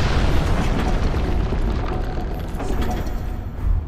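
A fire bolt explodes in Dark Souls 3 in the catacombs: a loud, deep boom with a sustained rumbling roar that holds steady for several seconds before a final swell.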